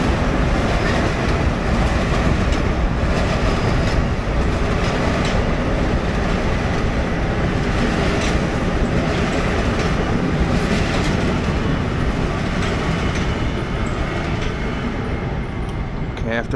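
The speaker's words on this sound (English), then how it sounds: "After that train rudely interrupted me." A loud train rolls by close at hand, a continuous roar and rattle of rail cars that fills the whole stretch without letting up.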